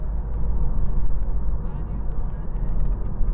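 Steady low road rumble and engine drone inside a moving Mazda CX-3, continuous and fairly loud, with faint higher noise flickering above.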